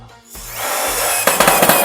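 A power driver sends a screw into a steel work desk during assembly, a short whirring burst that builds and then ends in a few rapid clicking ratchets, close by and alone.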